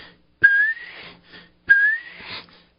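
A person whistling an imitation of a bobwhite quail call, two clear rising whistled phrases with a short pause between, close and alone.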